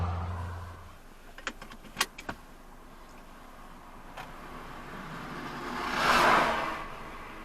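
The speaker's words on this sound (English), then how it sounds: "I'm about to make my way back in the car right now." Someone getting back into a car during a highway drive in Jamaica: a few sharp clicks and knocks of a door and keys, then a louder swell of rustling or motion near the end, close by with no talking.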